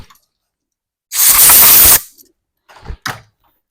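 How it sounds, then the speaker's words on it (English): An air hose blasts compressed air into a pistol frame during cleaning. One loud, sustained hiss lasts under a second, followed by two short, sharper puffs after a pause, with no talking. "Blow it out if you have an air hose."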